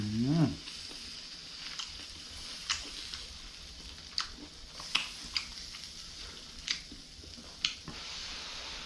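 Mushrooms sizzle quietly in a pan under a soft, steady fry, broken by scattered crisp pops and scrapes spread across the stretch.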